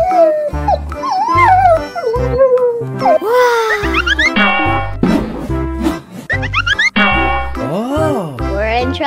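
A cartoon dog howls and yips in rising, wavering cries over a bouncy animated-show music bed, loud and up front, with several drawn-out howls across the stretch.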